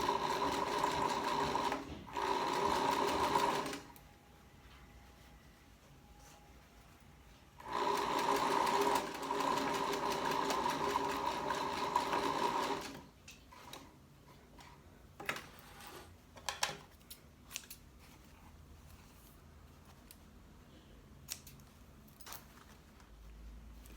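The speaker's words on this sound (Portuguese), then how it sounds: "Aqui, ó, tô alinhando o pé da máquina na costura que eu fiz." Sewing machine stitching a second seam parallel to an earlier one, half a centimetre apart, on fabric for a cachepot plant-pot cover: two sustained bursts of steady rapid whirring with a tonal hum, then quiet with scattered handling clicks.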